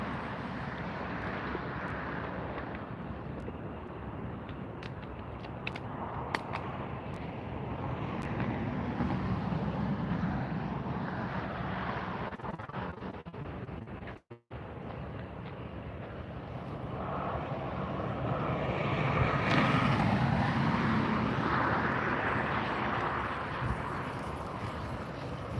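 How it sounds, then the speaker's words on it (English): An Austrian Airlines airliner taxis for takeoff at LAX, heard as a steady, distant jet-engine rumble mixed with wind noise that swells toward the end. No one speaks. "It's the Austrian Airlines. Going to be taxiing up for takeoff."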